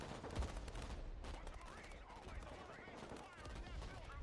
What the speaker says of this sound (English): Artillery is crushing that unit, absolutely.